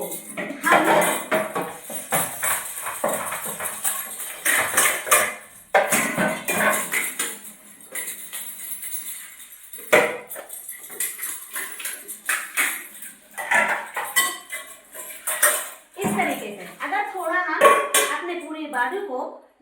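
Dishes are washed by hand at home, with pots, pans and cutlery clinking and clattering in irregular bursts, some sharp knocks close by, while a person talks throughout and a child is briefly heard.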